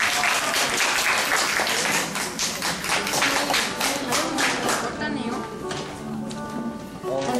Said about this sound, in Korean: 나올 때 박수 한번 할까요?